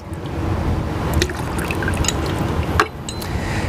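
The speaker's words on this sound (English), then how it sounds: "what we want to do is empty out whatever's left" Leftover water is poured and dribbled out of an HV5500 paint sprayer, a close, continuous splashing trickle with scattered drips.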